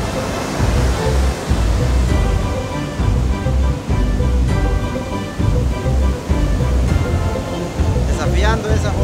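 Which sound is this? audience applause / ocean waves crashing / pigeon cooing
ocean waves crashing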